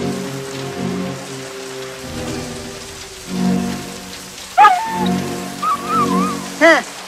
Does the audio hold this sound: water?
no